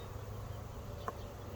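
Honeybees humming in an outdoor bee yard, a steady low buzz that stays faint and even throughout, with one brief closer flyby near the end.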